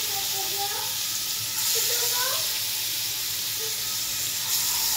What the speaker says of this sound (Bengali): এই যে মাছ ভাজিটা দেওয়ার সময় আমি জালটা কমিয়ে দিয়েছিলাম।